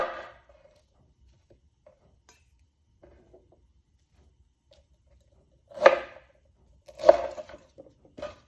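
A knife trims Brussels sprouts on a board, about a pound of them, in two short crisp bursts of cutting and clinking near the end, with quiet pauses before.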